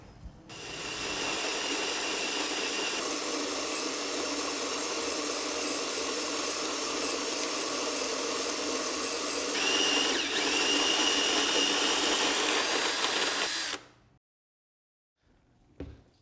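A Captain Crush grain mill with clear plastic parts grinds grain into a bucket with a loud, continuous motorised whir and a high whine. The pitch shifts midway, then the sound cuts off abruptly into silence near the end.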